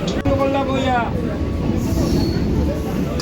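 Steady rumble and rattle of a passenger train in motion, heard from inside the carriage, with a continuous low roar throughout and people's voices over it.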